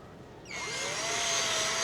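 A power drill starts up partway through and bores a hole for a Dynabolt anchor, a steady rising whine that stays loud and continuous to the end, with no talking.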